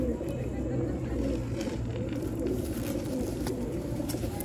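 A captured pigeon held in the hand gives soft low coos up close, while someone talks steadily through the whole stretch.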